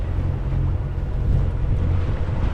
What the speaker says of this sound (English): There's a little breeze.